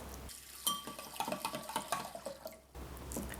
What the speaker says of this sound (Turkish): Hepsini yıkıyorum.